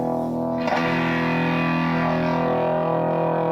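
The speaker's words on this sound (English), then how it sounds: "A distortion pedal, which overloads the signal." A sustained, heavily distorted electric guitar chord, played through a distortion pedal, rings out with a buzzing, saturated tone, a brief pick scrape near the start, and no voices.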